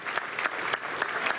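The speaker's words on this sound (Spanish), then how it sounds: "Desde aquí le enviamos un aplauso" Crowd at a year-end military salute ceremony at Venezuela's Ministry of Defense breaking into applause, a brief, dense, even burst of many hands clapping, fairly close and loud.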